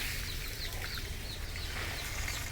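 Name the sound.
chickens clucking on a farm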